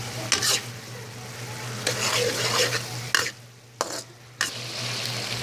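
Pork asado filling stirred in a pan with sesame oil and brown sugar, a loud bright sizzle cut by several distinct scraping stir strokes, with a steady hum underneath and brief quieter gaps.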